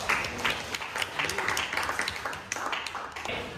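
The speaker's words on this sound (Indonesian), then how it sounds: "tepuk tangan untuk Mas Diandra" Applause from a class or small audience during a teaching performance test, a clatter of clapping hands with uneven bursts, fairly close and moderately loud, with faint voices mixed in.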